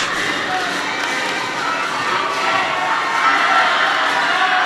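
Crowd in a high school gym at a boys basketball senior night game, cheering and shouting loudly and continuously, with many young voices building in intensity toward the end.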